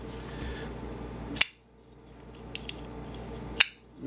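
A Brad Southard Tolk folding knife snaps open and shut with two crisp, loud metallic clicks a couple of seconds apart, separated by faint small ticks of the blade moving, heard close and alone.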